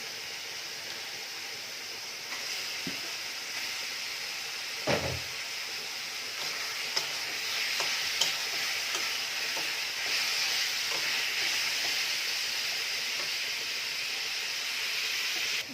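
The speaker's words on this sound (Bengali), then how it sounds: "মশলা কষানো হয়ে গিয়েছে, এবার এর মধ্যে মাছ দিয়ে দেবো" Pieces of rohu fish cook in a pan of fried spice paste for a Bengali curry with stem vegetables, giving a continuous hissing sizzle with occasional soft clinks and stirring scrapes, close and fairly quiet, with no voices.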